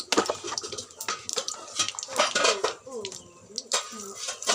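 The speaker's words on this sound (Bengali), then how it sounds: "জিরে দিয়ে দিলাম।" Cumin seeds go into a hot pan with dried red chillies, with close, clattering metal scrapes and taps of a spoon against the pan in quick, irregular bursts.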